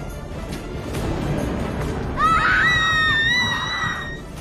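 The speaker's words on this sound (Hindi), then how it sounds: "मैंने चीख सुनी" A high, wavering scream rises suddenly and holds for about two seconds over a dull, noisy background.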